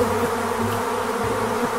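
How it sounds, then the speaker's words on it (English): A close, dense buzzing of bees, continuous and loud with wavering pitch, no voices. "Bees!"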